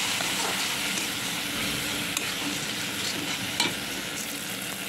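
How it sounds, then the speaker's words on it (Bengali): Spice masala for a pumpkin greens dish is stirred and fried in a pan, a continuous close sizzle with occasional scraping stirs and small spatters, no talking. "একটু ভালো করে কষিয়ে নিই।"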